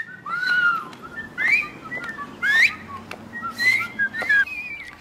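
A person whistles a run of bird-like phrases, each rising and falling in sweeping glides with short gaps between them. The whistling is fairly loud and close over a low hum of background noise.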